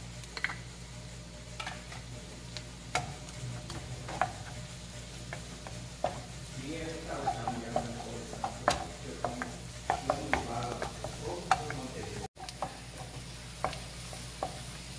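Chopped garlic sautéing in a pan for a mushroom cream soup, a low continuous sizzle under repeated scraping and tapping of a utensil stirring, busier toward the middle, with no talking.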